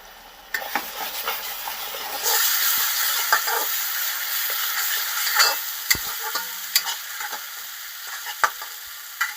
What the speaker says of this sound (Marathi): 10 मिनिटं चांगलं परतून घ्यायचं